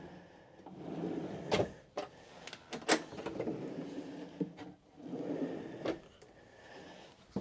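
Drawers in the kitchen of a Concorde Centurion 1060 GI luxury motorhome sliding open and shut, giving several sharp clacks and knocks close by with quieter rumbling glides between them.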